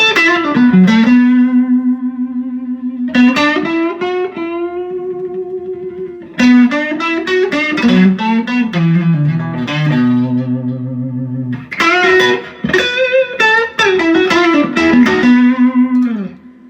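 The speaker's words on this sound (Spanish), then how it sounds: "Esta guitarra la he tocado bastante en directo y así suena." An electric guitar fitted with Di Liberto JM pickups is played through effects with distortion, chorus and reverb, ringing sustained chords and melodic runs in bursts, loud and close with no talking.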